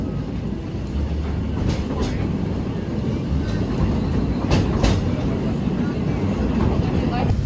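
An old gold-mine train on Big Thunder Mountain rattles and rumbles along its track at steady volume, with a continuous low roar and occasional sharp clacks standing out.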